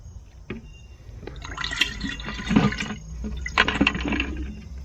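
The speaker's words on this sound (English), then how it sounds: "Okay, sprayer is just about full. I'll top it off a little bit more." Water pours into a sprayer tank, a splashing, gurgling fill that grows louder and fuller as it runs, with a few small knocks at the start.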